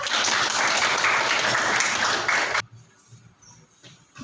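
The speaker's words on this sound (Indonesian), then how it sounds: "Tepuk tangan untuk kelompok 1." A room full of people applauds loudly for a couple of seconds, then the clapping cuts off abruptly into quiet background noise.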